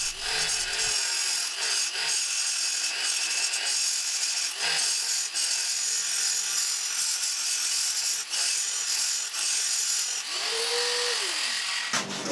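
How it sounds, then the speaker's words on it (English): A grinder works steadily and loudly throughout, removing metal to add grease clearance on a double ball screw part during a PM-30MV mill CNC conversion; a continuous abrasive hiss with small dips, no talk. "using my grinder to grind some additional clearance for the grease stuff on the"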